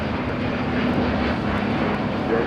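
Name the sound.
Delta Airlines Airbus A350-900 taking off at LAX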